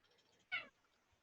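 A cat gives a single short, clear meow, close and moderately loud, alone against near silence.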